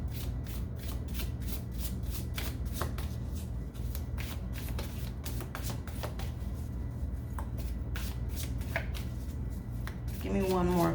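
A deck of playing cards is shuffled repeatedly for a tarot-style card pull, with crisp rhythmic riffling clicks close up over a steady low background hum, ending in a brief flurry.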